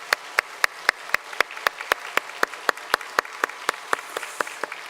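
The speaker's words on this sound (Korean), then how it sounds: "귀한 가족, 우리 박수로 환영하겠습니다." A handful of church congregation members clap in a slow, sparse rhythm during a Sunday worship service in Korea to welcome a newly registered family, with distinct sharp claps under a soft room hum.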